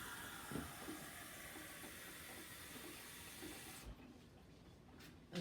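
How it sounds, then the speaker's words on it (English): Water pours in a steady hissing stream while cups are added during a children's circle-time activity; the quiet, continuous splashing runs for several seconds and then thins into softer trickles. "We need to add 3 more cups of water."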